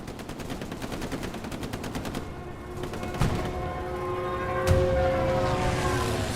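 Gunfire and explosions in the console shooter Hell Let Loose during a Stuka dive bomber attack: rapid rattling bursts of machine-gun fire give way to a steady roar, with a sharp impact thump around the middle and another near the end.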